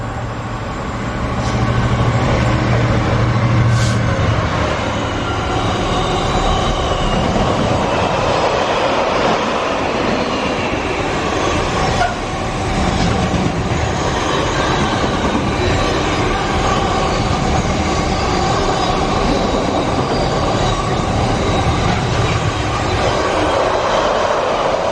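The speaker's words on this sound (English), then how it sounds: "now we've got a freight coming down platform 4 that has not been announced" An unannounced freight train rolls through a station platform in North London, a loud continuous rumble of wheels and wagons filling the whole stretch, close and steady without talk.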